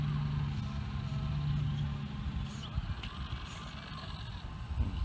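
An RC crawler truck with a Furitek Micro 2.5A BEC grinds slowly over slick rock with a steady, close motor whine and scraping tire noise, the sound even and continuous throughout.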